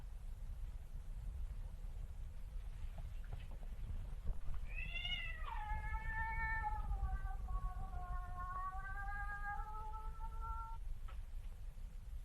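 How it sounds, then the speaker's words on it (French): A cat meows in a long, drawn-out wail that bends in pitch, rising and falling over several seconds, sounding fairly close above a low steady background rumble, with no talk over it. "Le chat qui miaule sans ouvrir la gueule."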